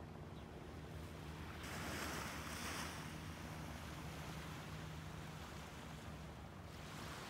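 Sea waves wash onto the shore of Tung Ping Chau island after rain, a steady surf roar that swells briefly, mixed with wind buffeting the microphone.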